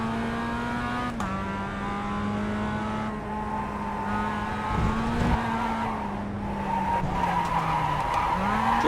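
A race car drifting in the iRacing video game, its high engine whine holding steady as tires squeal continuously through the slide, loud and close.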